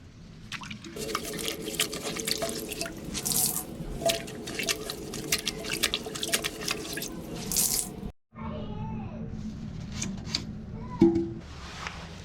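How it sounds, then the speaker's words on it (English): Water being cleared out of a toilet tank after a flush with the supply shut off, a steady wet splashing and dripping with trickling, a brief pause near the end, then more dripping. "And then I use a rag to get the rest of the water out of the tank."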